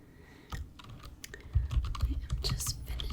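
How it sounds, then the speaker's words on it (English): Typing on a computer keyboard in a quiet clinic reception, with irregular clusters of soft, close key clicks that grow busier toward the end; no talking. "I am just finishing up typing this document."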